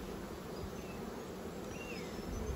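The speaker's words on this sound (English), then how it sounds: "make sure you throw a heap of nurse bees in there well" Honey bees in an open queenless hive, a dense continuous buzzing drone, close and steady with no talk.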